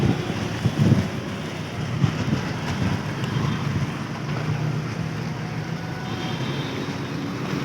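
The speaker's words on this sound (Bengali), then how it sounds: "প্রচণ্ড বাতাস আর ধুলাবালি" Strong wind with dust blowing through a city during a sudden storm, a continuous roaring rush with gusty buffeting against the microphone and no talking.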